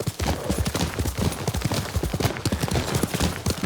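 A horse gallops in Ghost of Tsushima, its hooves pounding in a fast, close, rhythmic clip-clop that runs throughout.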